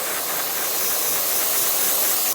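A continuous, loud hiss of an aerosol spray held close, steady and unbroken throughout.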